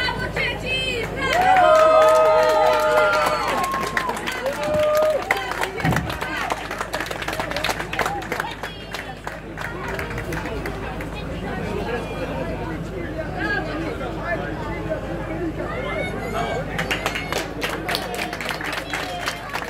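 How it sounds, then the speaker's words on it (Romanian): Audience clapping at a marathon award ceremony as women who completed both days of mountain biking and running are honored, sustained applause over crowd chatter and an announcer's voice, with busy hall noise throughout. "Le aplaudăm pe doamne"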